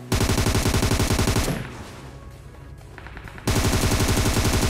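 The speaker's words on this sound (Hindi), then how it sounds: "पीछे से यार कोई फायरिंग कर रहा है, टैप टैप कर रहा है बहुत देर से" Rapid automatic gunfire in the mobile battle-royale game PUBG Mobile, loud and continuous bursts of shots that pause briefly for a quieter stretch before resuming at full intensity, with no talking.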